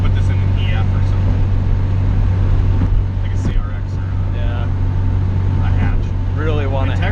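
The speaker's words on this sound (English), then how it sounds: "Just kind of cruising down the country road here, 55 miles an hour" A Honda Integra GSR car cruising at 55 mph down a country road, with a steady low engine and road drone throughout and voices talking over it.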